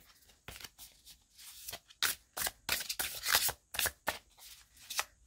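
Tarot cards shuffled close up in repeated quick riffling bursts, crisp papery flutters coming in uneven bursts.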